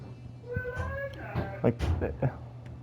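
A voice imitates Donald Duck, a short burst of nasal, squawking quacks and garbled syllables, close and fairly loud, with a few sharp bursts near the end.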